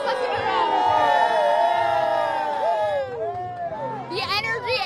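A crowd of excited Philadelphia Eagles fans cheers at a bar after the Super Bowl win, loud sustained shouting and whooping with some voices talking over it, close and dense throughout.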